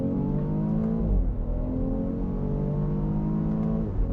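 A 2018 BMW X3 M40i accelerates in second gear from about 30 mph, its engine note droning steadily and rising in pitch inside the cabin, with no talking during the pull.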